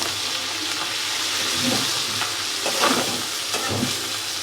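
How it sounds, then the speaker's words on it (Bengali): Stinging catfish (shing) frying in oil with fresh green chilies and roe, a dense steady sizzle broken by several stirring scrapes and clinks, close and loud, with no talk. "মাছগুলো সুন্দর করে ফ্রাই হয়ে গেছে ডিমগুলো এখন আমি মরিচ দিয়ে দিলাম"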